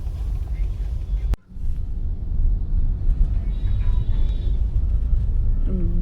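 Road traffic is heard from inside a moving car on the way to a railway station in heavy traffic, as a steady loud low engine and road rumble with a brief sharp click and faint horn-like tones near the end.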